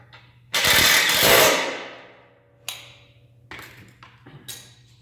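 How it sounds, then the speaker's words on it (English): A 9/16-inch socket wrench ratchets a nut on the deflector plate of a Ferris zero-turn mower: a loud, close burst of rapid clicking that trails off, then several shorter ratcheting bursts, with no talking. "Now I'm going to need a 9/16 socket for the nut on this side."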